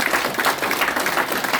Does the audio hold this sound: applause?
yes